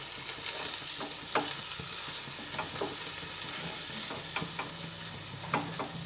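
Okra with sesame frying in a pan, a steady sizzle throughout with scraping and clattering from stirring at intervals, close and fairly loud.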